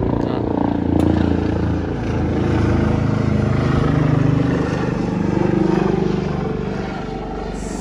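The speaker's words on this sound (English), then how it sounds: "A little chopper that comes nearby" A small helicopter passes nearby, a steady low rotor and engine drone that swells and fades over several seconds, continuous throughout.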